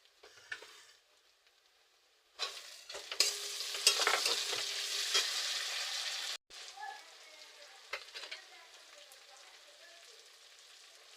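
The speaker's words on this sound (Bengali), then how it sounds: "পেঁয়াজটা লাল লাল ভাজা হয়ে গেছে এবার আমি টমেটোটা দিয়ে দেবো" Onion and tomato sizzle loudly in a hot pan for a few seconds with stirring scrapes, then settle into a quieter, steady frying crackle.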